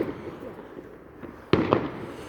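Fireworks bursting over a street at night, heard from across the road: a distant low rumble of bangs, then one louder, sharp burst followed by crackling, with faint voices in the background.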